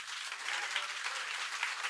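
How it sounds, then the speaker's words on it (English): An audience at a seminar applauds, dense and steady clapping from many hands that holds at an even level throughout, with no voices over it. "That deserves a round of applause, ladies and gentlemen."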